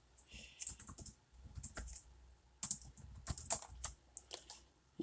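Computer keyboard typing, quick irregular clicks in bursts with short pauses, close and fairly quiet, no voices.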